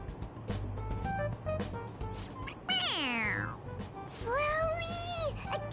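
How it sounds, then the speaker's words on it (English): Several synthetic meows from a toy cat in Persona 5 Royal, a couple of drawn-out ones sliding in pitch, over a steady low background hum; close and fairly loud. "It meows when you press on its head."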